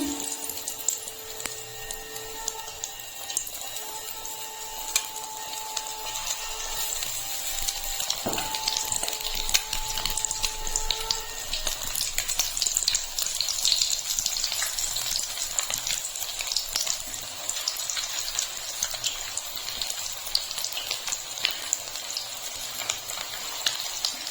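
Amudi fish fries in hot oil in a steady, continuous sizzle that stays close and even from start to finish, with a faint handling clink partway through and no voices.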